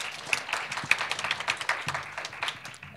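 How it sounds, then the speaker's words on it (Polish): Audience applause in a hall during a Polish Oxford-style debate on philanthropy, a steady patter of many hands clapping at moderate distance, with a faint low voice briefly joining near the end. "Brawa."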